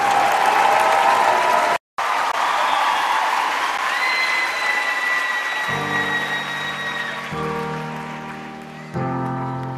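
Audience applause at a concert, a dense steady wash of clapping that briefly drops out, then continues as music notes and tones come in beneath it.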